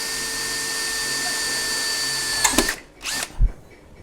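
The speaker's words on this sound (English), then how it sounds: "Okay, so I'm going to drill one up here." A power drill boring a hole, its steady high motor whine running for a few seconds before winding down, followed by a couple of short bursts as the trigger is pulsed, close and alone.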